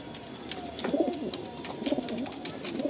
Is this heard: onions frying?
no